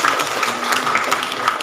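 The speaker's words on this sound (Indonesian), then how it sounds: "Oke, kita beri tepuk tangan ya." Applause at an Indonesian community gathering, steady dense clapping from a small audience at moderate level, continuing evenly without a break and with no voices over it.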